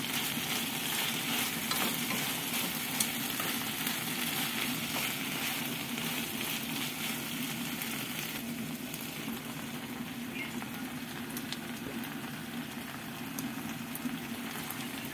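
Vegetables fry and sizzle in a pan as they are stirred, giving a steady, close hiss for the whole stretch with soft scraping from the stirring and no talking.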